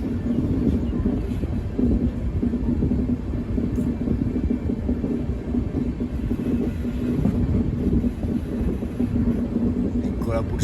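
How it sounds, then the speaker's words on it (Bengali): A train pulling into Koraput station, a hill town ringed by mountains, gives a steady close rumble of rolling wheels and carriage noise with wind buffeting throughout. "এই এখন কোরাপুট স্টেশনে ঢুকছি।"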